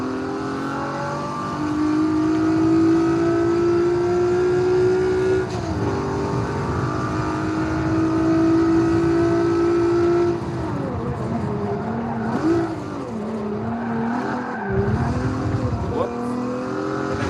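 Race car engine in Forza Motorsport 7 revving and whining through an e-brake drift, pitch climbing and dropping with shifts and tire noise, a player's voice talking over it.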